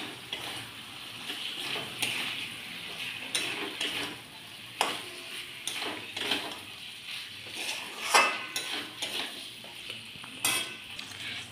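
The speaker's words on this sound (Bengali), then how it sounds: "এবার ভাজা সবজিগুলো দিয়ে দিচ্ছি, ফুলকপি, সিম," Fried cauliflower, flat beans and potato tipped into a pan and stirred, with spatula scrapes and clinks against the metal over a soft continuous sizzle.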